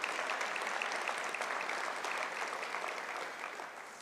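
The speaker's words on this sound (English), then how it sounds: "I do think that deserves a round of applause." Audience applause at a county State of the County address, a dense, steady wash of many hands clapping filling the hall, sustained throughout and slowly tapering toward the end.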